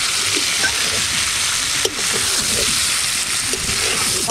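Yellow cauliflower frying with spices in a pan for a Roopchand fish curry, a steady close sizzle with soft stirring scrapes and slight sloshing throughout.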